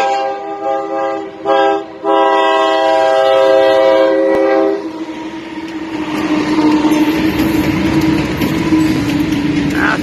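A Providence and Worcester freight train carrying ethanol cars sounds a loud, sustained horn in several blasts, then its engine roars and its wheels rumble past close by in a steady, rising wash of noise.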